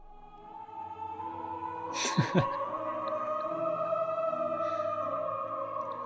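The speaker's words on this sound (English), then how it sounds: "So that's the sound of a boys choir." A pitched-down boys choir sample drones in low, smeared sustained tones, with a brief breathy swell partway through, slow and eerie.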